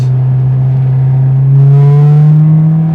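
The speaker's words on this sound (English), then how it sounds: "Definitely not a stock exhaust" A right-hand-drive JDM Honda S2000 fitted with a Skunk2 Mega Power exhaust idles close by, giving a loud, steady, deep drone that swells slightly midway.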